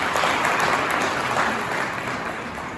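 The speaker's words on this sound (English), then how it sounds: "I'm going to request another visible round of applause." An audience at an indoor government event breaks into a steady round of clapping that holds for a few seconds and then gradually fades, with no voices over it.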